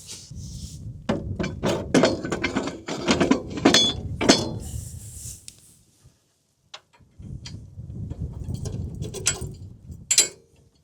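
Someone adjusts the density mechanism on a round baler, producing bursts of close metallic clunks, ticks and rattles, a short pause, then another run of clanking.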